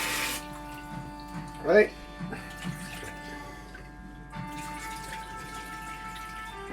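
Potatoes for a thick tattie soup being washed under a running kitchen tap, with steady water flow and a few drips and splashes, plus a brief spoken word over it.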